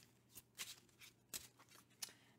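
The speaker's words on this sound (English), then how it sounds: "Now I'll shuffle again." A deck of astro chakra cards being shuffled by hand, heard as a quiet series of crisp, papery riffles and flicks in irregular bursts, close and alone with no talking.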